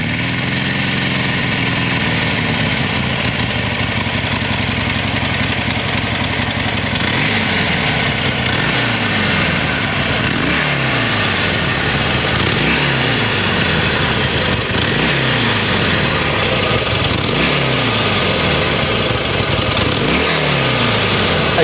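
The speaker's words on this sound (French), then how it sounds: "C'est vraiment une ambiance à part cette Harley-Davidson, ne serait-ce qu'au démarrage. Tenez, séquence démarrage." A Harley-Davidson Forty Eight motorcycle engine fires up and settles into a loud, close, lumpy idle, with slow rhythmic throttle blips repeating throughout.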